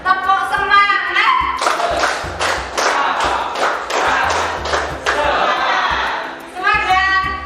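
A school class performs the rhythmic tepuk semangat clap chant, voices shouting together over a quick run of sharp, evenly spaced claps, loud and close in a classroom.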